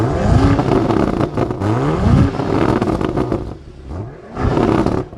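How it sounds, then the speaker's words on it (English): A hillclimb race car at the Simola Hillclimb revs hard near its exhaust pipe, loud blips rising and falling with a rough, crackling roar and a short pause before another burst. "We'll go to the exhaust pipe and rev it."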